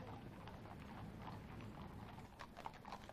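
Horses' hooves clip-clopping on the road in the royal funeral procession for Diana, Princess of Wales, led by the King's Troop, a faint, steady walking rhythm heard at a distance with no voices over it.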